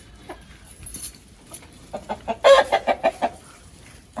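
Chickens at a rural yard give a few scattered clucks, then a closer run of rhythmic clucking calls, fairly faint against a quiet outdoor background.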